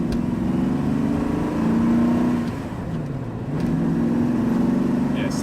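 A TVR Griffith's engine pulls up through the gears from inside the car, a steady loud drone that rises in pitch, dips at a gear change and climbs again.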